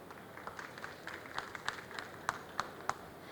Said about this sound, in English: Let's give Petcision a round of applause.